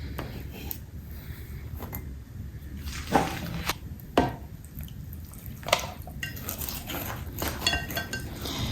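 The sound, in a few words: mixing a compound in a container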